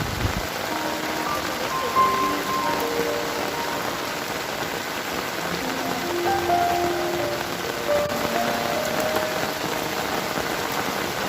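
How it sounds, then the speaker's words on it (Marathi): Steady heavy monsoon rain drums on a hard surface nearby at a village rice farm during paddy planting, a dense continuous hiss with a few faint tonal sounds in the background. "पावसाची जोरदार सुरुवात झालेली आहे"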